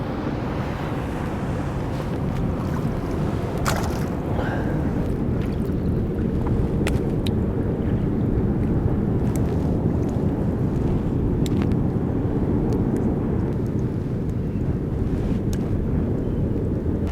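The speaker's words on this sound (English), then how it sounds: "Look at how windy it is." Strong wind gusting across a kelp-harvesting shore, roaring against the microphone over a low wash of surf, with a few brief knocks and clicks scattered through.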